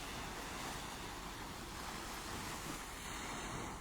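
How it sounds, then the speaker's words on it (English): Ocean waves wash continuously onto a beach in a soft, even roar with faint wind, distant and quiet throughout, with no voices. "And now just listen to the sound of the waves."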